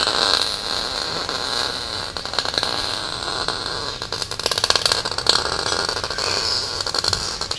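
On a balancing machine, a crankshaft spins up to a steady, loud mechanical whir with a constant high whine and rattling overtones that hold throughout.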